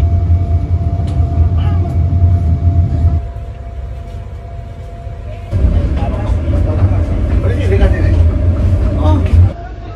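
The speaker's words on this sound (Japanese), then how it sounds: "21時30分、列車は帝国通りハノイへ向けて走り出しました。" Rumbling sleeper train from Lao Cai to Hanoi rolls along steadily with low clattering and hum, dipping quieter for a few seconds midway before picking back up.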